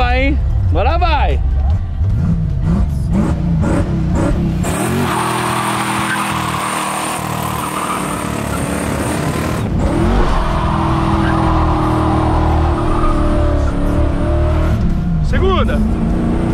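A Ford Maverick's engine revs and accelerates on the street, rising through gears with a loud, close roar and tire noise, while voices talk excitedly over it.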